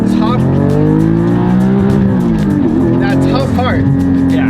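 A naturally aspirated Porsche 718 GT4 engine revs high and whines steadily with shifting pitch, loud and continuous, while people talk over it.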